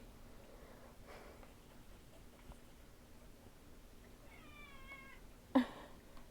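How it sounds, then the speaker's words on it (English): A cat meows once, a wavering mid-length call, followed by a sharper, louder yowl near the end; otherwise a quiet room. "By the way, that is my cat, Moonpie."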